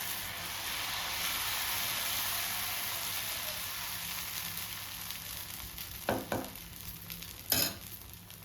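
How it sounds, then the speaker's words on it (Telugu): Sprouted moong pesarattu cooks on a hot pan with oil and onion pieces, a soft steady sizzle and hiss with a couple of sharper scraping sounds near the end. "ఇప్పుడు మరొక పెసరట్టు వేస్తున్నాను."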